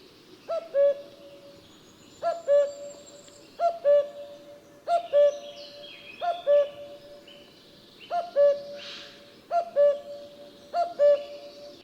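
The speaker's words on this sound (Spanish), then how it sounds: "vamos a pararnos a escuchar durante unos segundos el famoso canto del cuco." Common cuckoo song, repeated calls at regular intervals of about one and a half seconds, each a clear two-note phrase standing out over a quiet outdoor background.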